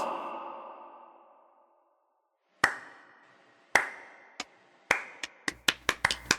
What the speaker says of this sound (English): My clapping might have peaked the mic.